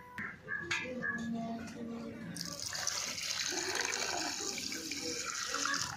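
Raw chicken is washed under running tap water for a gravy, a brief clatter and faint voice sounds giving way to a steady, fairly loud rush of water splashing in a sink.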